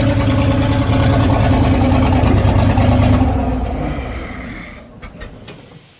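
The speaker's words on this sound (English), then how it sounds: "it's broken right off the muffler there, see? That's why it's so loud." Loud engine of a plow truck whose exhaust pipe has broken off the muffler, a steady raw rumble for about three seconds that then winds down and fades, with a few faint knocks at the end.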